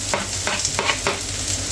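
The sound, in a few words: tuna with onion and egg cooking in a pan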